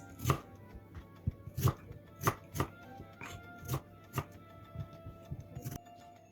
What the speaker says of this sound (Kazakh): Картопты да ірі ғып тураймыз.